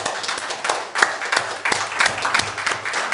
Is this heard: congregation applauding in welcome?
yes